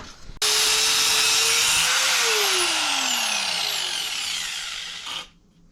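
A power tool cuts through a plastic bumper support on a crash-damaged car bumper, a loud steady whine with a sliding pitch that runs about five seconds before stopping abruptly.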